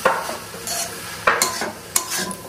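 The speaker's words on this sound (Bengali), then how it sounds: "এবার দিয়ে দেবো সবজিগুলো, ভাজতে শুরু করবো।" Winter cabbage and other vegetables frying in a pan give a continuous sizzle, broken by a few sharp scraping stirs of a spatula, close and fairly loud, with no talking.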